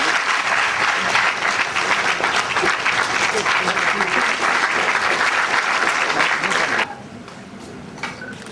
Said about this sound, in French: Sous vos applaudissements, messieurs.